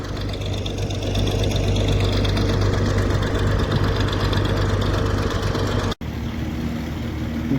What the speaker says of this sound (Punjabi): ਮੋਟਰ ਵੀ ਪਾਤੀ ਤੇ ਬੋਰ ਵੀ ਚਾਲੂ ਕਰਤਾ ਆ ਜਨਰੇਟਰ ਲਾਤਾ